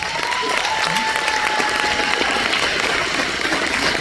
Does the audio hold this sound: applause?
yes